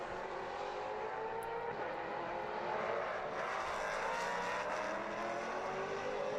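Maserati Trofeo race cars compete at the Red Bull Ring in 2015, a continuous roar of engines at racing speed that swells slightly as cars close in, fairly distant and steady.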